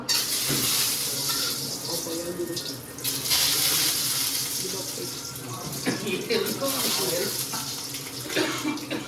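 Eggs cracked one at a time into a hot oiled pan sizzle and crackle in a continuous broadband hiss, with brief louder bursts as each egg hits the oil, close and moderately loud.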